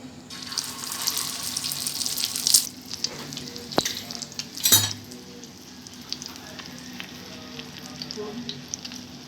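Egg-dipped beef shami kebabs fry in a pan over a medium flame with a steady close sizzle, broken by a couple of brief clatters and a splash of water.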